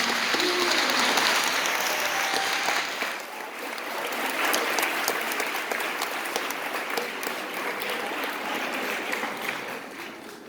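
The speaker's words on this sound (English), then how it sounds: "So give all of yourselves a big cheer." Audience at a girls' semi-final of a Shakespeare performance competition gives sustained applause with cheering, a dense steady clatter of clapping filling the whole stretch, dipping briefly before swelling again.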